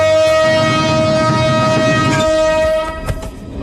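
A loud, sustained train horn blares with steady tonal harmonics over rumbling rail noise, then cuts off, leaving clattering wheels and a few sharp metallic knocks.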